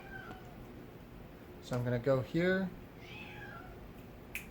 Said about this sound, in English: Sorry for my cat there.